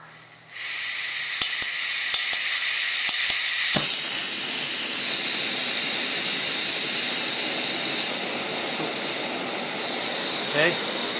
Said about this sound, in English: we're going to light our stove and do a boil test